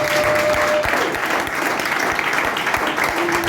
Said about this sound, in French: Acclamez pour nous quand même.